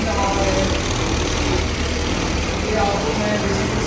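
A Chinese 125cc fully automatic scooter engine runs steadily at idle up close, a continuous low rumble with a slight knocking texture and no talk over it.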